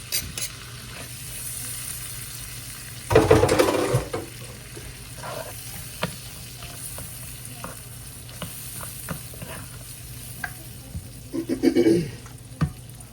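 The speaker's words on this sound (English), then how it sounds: "I got some onion, some garlic to go in there. Let's get that going. Saute." Onion and garlic sautéing in a pan give off a continuous sizzle, broken by two louder bursts of stirring and scraping and scattered utensil clicks.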